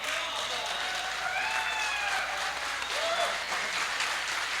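An audience at a poetry mushaira in Jeddah breaks into sustained applause, a steady dense clapping that fills the hall while voices call out faintly beneath it.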